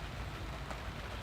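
Steady rain falling during a croquet tournament, a faint, even wash of pattering that continues without a break for just over a second.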